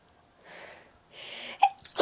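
A single person sneezes close by: a breathy intake builds up, then a sharp, loud burst of a sneeze at the end.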